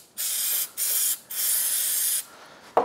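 Aerosol parts cleaner sprayed into the cylinder of a Yamaha YFZ450R engine during a top-end rebuild, three close hissing bursts separated by short pauses, the last one longest, with no talk.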